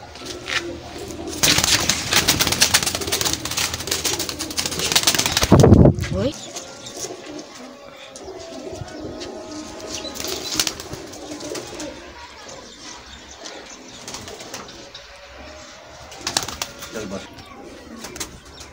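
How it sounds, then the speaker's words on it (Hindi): Pakistani Sialkoti pearl pigeons coo and rustle close by, with a burst of wing flapping early on and someone talking intermittently. "यह भी मोतियां वाला कबूतर है जी,"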